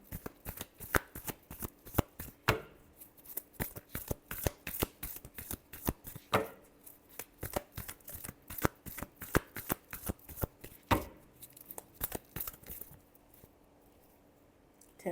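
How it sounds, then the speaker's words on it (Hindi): Tarot cards shuffled by hand in quick bursts of crisp riffling and flicking, repeated several times with brief pauses between rounds, close and fairly quiet, then tapering off near the end with no talking. "Last shuffle."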